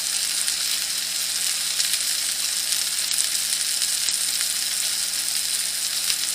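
Steady, close sizzling of a beef hamburger patty frying in a pan, a continuous crackling hiss without pauses.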